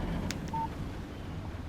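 A brief phone alert tone rings out in the Alan Wake game, a short chime sounding once over a low ambient background hum.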